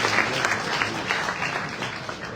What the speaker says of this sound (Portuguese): Aplausos, senhoras e senhores, para Kid MC.